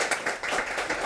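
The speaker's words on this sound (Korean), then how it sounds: "여러분 큰 박수로 맞아주시기 바랍니다" An audience at a presentation of clinical research results claps in welcome, giving a brief burst of dense, rhythmic applause that fills the room.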